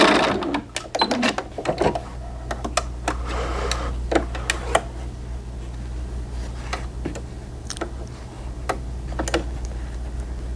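A sewing machine stitching a dart in small doll pants, a soft low running hum under scattered close clicks and ticks of the mechanism and fabric handling, with no talk.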